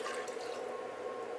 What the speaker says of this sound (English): you're going to use 1 can of water to add to that cream of mushroom soup